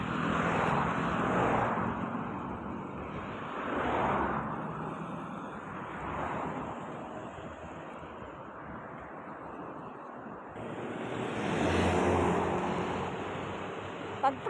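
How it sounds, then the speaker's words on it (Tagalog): Heavy road traffic rushes past near the Bangsar MRT station in Kuala Lumpur, a steady moderate roar with vehicles swelling and fading as they pass nearby, faint and without speech. "Kabi-kabila ang mga sasakyan, Diyos ko."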